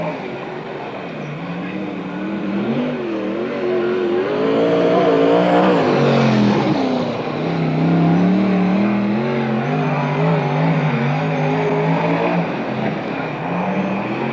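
Sprint car with a 360 engine and 1986 Osborne chassis racing at a NARC event in Marysville, California, its loud engine rising and falling steadily as it laps the track close by, with a brief peak of revving.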